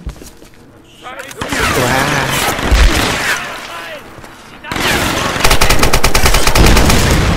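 Gunfire in the Tomb Raider video game, loud bursts of shots in a busy combat scene, with a rapid machine-gun-like rattle in the second half and talk over parts of it.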